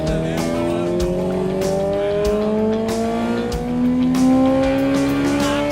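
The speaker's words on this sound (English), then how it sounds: "getting the bike up to an RPM" A motorbike on a dyno with its engine revving up through the RPM range, a loud rising whine with harmonics climbing steadily, punctuated by sharp clicks and knocks.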